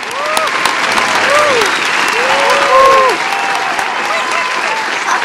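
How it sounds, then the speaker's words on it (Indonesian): A hall audience at the Mandiri Capital Indonesia fifth anniversary celebration breaks into loud, sustained clapping, with whoops and cheering voices riding over the applause throughout. "Boleh tepuk tangan untuk MCI dulu"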